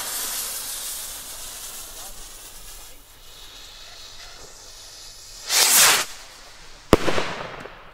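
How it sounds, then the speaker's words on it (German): A premium New Year's firework rocket hisses and whooshes upward, then bursts with a sharp crack followed by crackling, heard over a steady background hiss. "Super geile Rakete."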